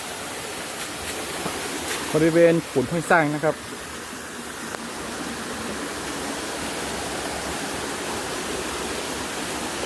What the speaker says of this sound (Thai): นี่ก็จะเป็นน้ำตก